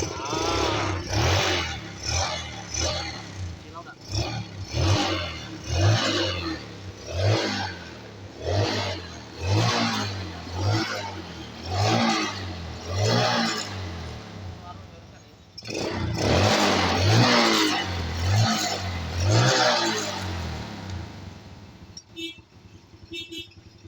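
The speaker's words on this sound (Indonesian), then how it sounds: "Jadi untuk motor ini sudah hidup." A Yamaha Vega R New motorcycle that had stalled with lost ignition starts after a spark plug is fitted. It runs in a series of rhythmic revving pulses up close, pauses briefly, then revs again before cutting off.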